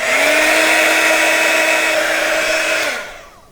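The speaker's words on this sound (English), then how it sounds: "I'm just going to go over again with my heat gun and sort of get that embossed." A heat gun blows hot air over embossing powder on a handmade wand, a loud steady whirring hum with a high whine that holds for about three seconds, then cuts off and winds down quickly.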